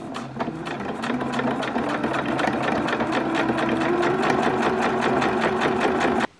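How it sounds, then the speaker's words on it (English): A sewing machine stitches leather pieces for a women's trench coat in a continuous fast, even rattle, close and loud, stopping abruptly at the end. "we're going to stitch round, turn it out, and then top stitch round the edges"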